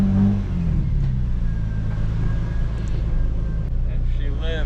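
A Toyota MK4 Supra engine runs as a loud, steady, low rumbling drone that holds for several seconds, close by and with no clear rev swells.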